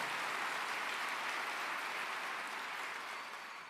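An audience at a Minnesota town hall on gun violence prevention gives a dense, steady round of applause for a speaker, the clapping holding loud and even before tapering slightly at the end.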